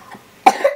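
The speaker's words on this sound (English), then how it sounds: "She's got a little cough." A young girl gives a single sharp, close cough, a short burst followed by a slight throaty tail, loud against an otherwise quiet room.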